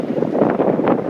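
Wind buffets the microphone in a steady low roar, gusting slightly, with no voices, outdoors in front of a castle near a busy road.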